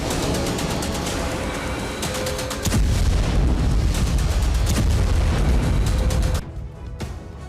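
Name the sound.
animated bomb explosion at Beirut airport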